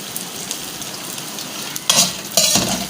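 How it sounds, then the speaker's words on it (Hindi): Edible gum (gond) frying in oil in a pan for panjiri, with a steady sizzle throughout and a couple of louder bursts of stirring and spatula scraping near the end. "गोंद को फ्राई करना जब तक ये फूलेगा अच्छी तरह, जब तक हमने इसको फ्राई करना है।"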